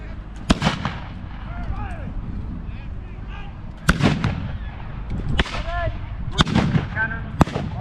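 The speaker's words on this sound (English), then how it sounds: "Cannons on the artillery side" Cannons fire at a battle reenactment, several sharp booming reports spaced irregularly over a constant background of field noise and distant voices, with a commentator talking throughout.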